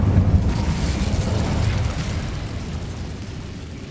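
Incendio fire spell blast in the video game Hogwarts Legacy, a loud booming burst with heavy low rumble that gradually fades into a crackling, roaring tail.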